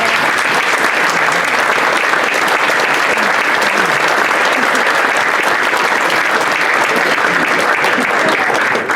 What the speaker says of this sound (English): I'd like to encourage you to give a round of applause for Gavin and his team tonight